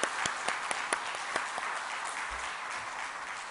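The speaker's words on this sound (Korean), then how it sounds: "우리 다시 한번 감사의 박수 드리겠습니다" Church congregation at a Sunday evening service clapping in thanks after a health lecture, a soft, fairly distant wash of hands with a few sharper individual claps standing out.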